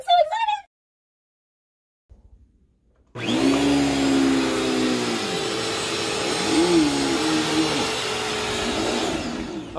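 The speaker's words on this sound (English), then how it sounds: "let's take this baby for a spin and see how it does on my shagalicious carpet" A Bissell CleanView Pet upright vacuum starts after a brief silence and runs loud and steady on high pile shag carpet, a droning motor whine with shifting pitch as it moves. A short voice is heard at the very start.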